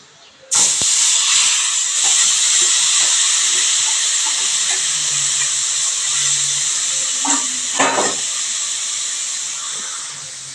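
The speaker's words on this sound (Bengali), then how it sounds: "আর কষানোর জন্য এই মাংসগুলো কড়াইতে একটু একটু করে দিয়ে দেবো।" Meat pieces dropped a little at a time into hot oil in a kadai, cooking for a spicy Bengali mutton dish, setting off a sudden loud, steady sizzle and hiss that holds for about ten seconds with small clatters mixed in.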